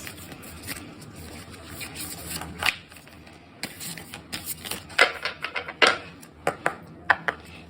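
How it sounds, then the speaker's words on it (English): Tarot cards are shuffled in quick, crisp bursts of riffling and slapping, close up, with irregular sharp clicks between the bursts. "I'm gonna shuffle them a bit."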